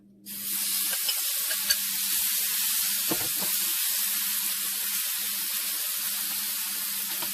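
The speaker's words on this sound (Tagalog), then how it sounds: "kailangan yung pan natin mainit na mainit bago natin ilagay yung ating chicken" Chicken hits a very hot pan and sizzles loudly and steadily, a dense continuous hiss starting abruptly and holding throughout, with a few faint clinks and stirring knocks beneath.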